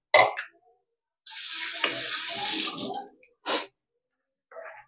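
Pot and pan lids being rinsed in a kitchen sink: short splashes, then a few seconds of running tap water with clinks of the lids, followed by brief bursts of water, close and alone.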